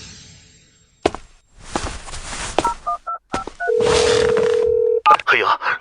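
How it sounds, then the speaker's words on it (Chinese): A telephone being dialed gives a string of short electronic keypad tones, some in quick pairs, then one long steady tone, with talk and footstep-like knocks around them. "黑鹰，你怎么想起给我打电话来了？"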